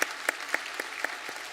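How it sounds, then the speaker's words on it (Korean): A church congregation applauding during a Christmas Sunday service, with rhythmic unison clapping in steady beats about four per second over a dense bed of scattered claps. "우리 특순과 찬양대 위에 우리 격려의 박수 한번 하겠습니다"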